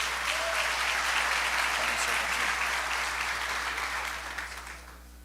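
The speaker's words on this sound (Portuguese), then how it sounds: "Você pode aplaudir ao Senhor?" A church congregation breaks into loud, sustained applause filling the room, holding steady for several seconds before tapering off toward the end.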